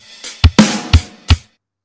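On a real drum kit, a quick beat pattern is played at normal tempo: five punchy hits in close succession, mixing deep kick thumps with bright cymbal and snare splashes, loud and close.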